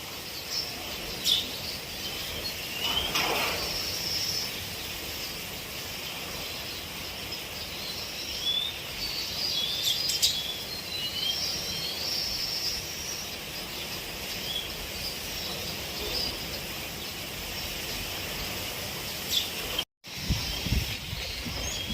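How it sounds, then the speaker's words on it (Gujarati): Birds chirping around a bird feeder on a natural farm, a busy chorus of small calls and tweets over a constant insect drone, with a brief dropout near the end and no talking. "પક્ષીઓના કલરવ સાથે"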